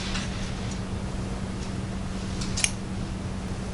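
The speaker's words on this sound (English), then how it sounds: "Snip a triangle out of the top corner here." Scissors snipping fabric during sewing, a few faint light cuts over a steady low hum, with one brief sharper snip near the end.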